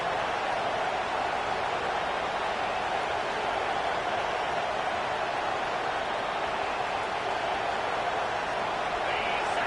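Continuous loud roar of a football stadium crowd in a video game, a dense, unbroken wash of noise holding steady the whole time.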